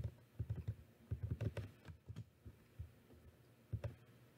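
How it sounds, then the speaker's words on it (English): Soft, irregular keystrokes on a computer keyboard, clustered in short bursts of taps with brief pauses, close but quiet, with no one speaking. "Or you can type in a distributor ID number."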